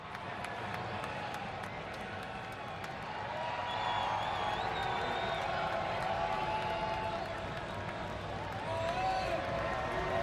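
Crowd at the 2023 Busch Light Clash NASCAR race cheers as a broad, steady roar that swells after a few seconds and holds, with whoops and scattered clapping, amid background commentary.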